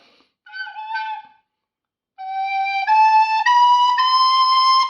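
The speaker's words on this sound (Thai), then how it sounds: "ผมเป่ารีคอร์เดอร์ก่อนนะครับ" A recorder plays a short held note, pauses, then a rising sequence of clear sustained tones stepping upward (sol, la, ti, do), close and alone.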